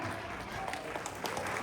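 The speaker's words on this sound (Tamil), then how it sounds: "பெரிய கைத்தட்டல் கொடுத்துடலாம்." A school annual day audience gives brief, dense applause for a fifth-grade dance performance, a steady wash of clapping throughout.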